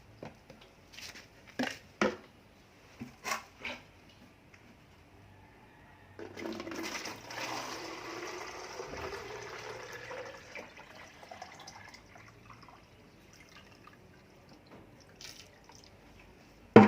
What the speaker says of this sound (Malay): Kita isi air dia.